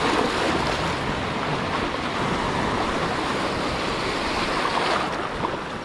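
Strong sea current and surf churn near an island, a steady, loud wash of rushing water with wind buffeting the microphone throughout.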